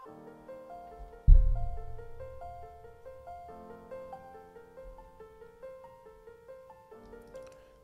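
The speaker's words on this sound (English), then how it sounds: "Then we have this piano part." Soft electronic piano playing simple triad chords over low bass notes, with an arpeggiated melody rippling on top; a deep bass hit lands early, then gentle chord strikes repeat in a steady chillstep rhythm.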